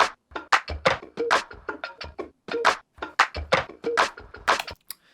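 A hip-hop beat with two clap samples, all punchy percussive hits in a tight bouncing rhythm, loud and close, with no one talking.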